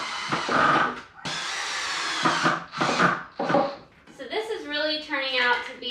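A power drill drives 2.5 inch pocket hole screws into a wooden console table in several loud, close bursts of whirring, each a second or so long, with a person talking afterward.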